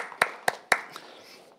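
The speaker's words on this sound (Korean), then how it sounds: "치료해 주신 아버지 하나님께 감사와 영광의 박수를 올려드리겠습니다" Three sharp hand claps at an even pace, then a softer fourth, ring out in a church hall during a healing meeting; quiet room tone fills the gaps.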